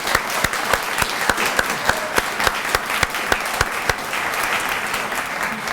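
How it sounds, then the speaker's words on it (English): An audience at a community garden grants announcement gives a round of applause, loud, close, dense clapping with one nearby pair of hands striking sharp, evenly spaced claps throughout before the sound thins slightly at the end. "Let's give Barb a round of applause."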